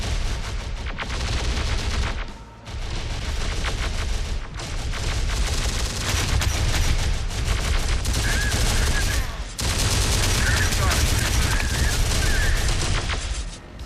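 Dense video-game battle fire from a war game: rapid gunfire bursts and heavier booming shots from a tank roll on almost continuously, loud and close, with brief gaps between salvos.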